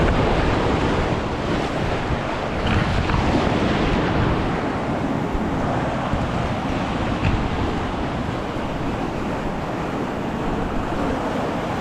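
Sea waves wash steadily up a sandy beach, a loud continuous roar of surf mixed with wind buffeting the microphone, with no one speaking.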